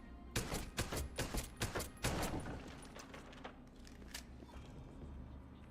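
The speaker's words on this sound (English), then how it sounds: "I was shooting my gun over there, that's true" The player's gun fires a rapid burst of close, sharp shots in Deus Ex: Human Revolution, then trails off into a quieter rumbling ambience.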